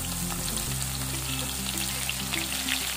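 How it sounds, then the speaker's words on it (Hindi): Finely chopped onions, two medium ones, sizzle steadily in a pan as they fry toward golden brown for lauki kofta, a continuous close crackling hiss with no talking. "प्याज को हमें तब तक भूनना है जब तक ये गोल्डन ब्राउन ना हो जाए।"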